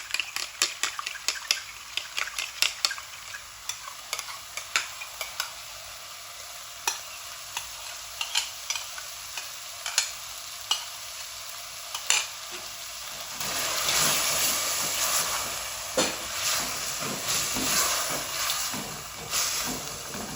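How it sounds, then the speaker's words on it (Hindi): Bitter gourd masala frying in a pan begins with sharp, scattered crackles and spatters, then swells into a louder, denser sizzle with stirring scrapes and hiss. It stays close throughout with no voices. "इसकी अच्छी तरह भुनाई करनी है।"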